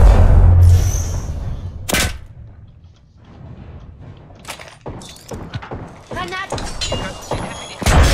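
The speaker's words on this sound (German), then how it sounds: "Werfe Bogenstern." An Arc Star is thrown and detonates in Apex Legends, with sharp bursts, thuds and electronic crackles scattered through a tense firefight, while a voice speaks intermittently between the hits.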